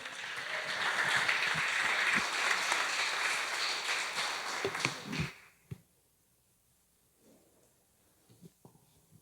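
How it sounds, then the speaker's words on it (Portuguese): Church congregation at a Sunday family service applauding together, loud sustained clapping for about five seconds that stops abruptly, leaving a quiet room with a few faint sounds. "No nome do Senhor Jesus, aplauda o Senhor, irmãos."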